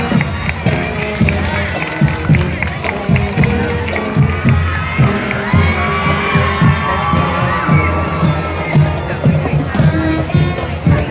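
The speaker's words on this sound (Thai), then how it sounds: "ขอเสียงปรบมือให้การแสดงชุดแฟนซีดีอีกครั้งหนึ่งครับ" Crowd at a school sports tradition event cheering and clapping after a fancy drill performance, a loud dense roar of voices and shouts with scattered applause running continuously throughout.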